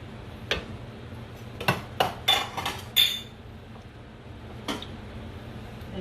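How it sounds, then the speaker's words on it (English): Sausages dropped into a pan with olive oil, with a few close clinks and clatters against the metal, then a faint background hiss. "And now I'm going to add the sausages to the pan."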